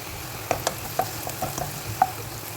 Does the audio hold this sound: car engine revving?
no